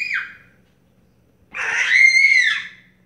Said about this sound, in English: You just screech and you,